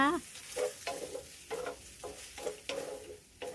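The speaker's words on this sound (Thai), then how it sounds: "ใส่ซีอิ๊วดำหวานลงไปแล้ว เราก็ผัดคลุกเคล้านะคะ" Shanghai noodles stir-fried with sweet dark soy sauce, giving a steady sizzle broken by repeated scraping stirs of the spatula roughly every half second, close and moderately loud, with no voices.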